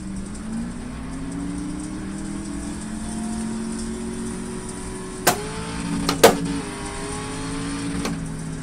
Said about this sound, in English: You can hear me shifting.